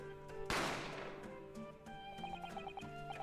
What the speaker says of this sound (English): A gunshot rang out, so I hurried into the dining area to see what had happened.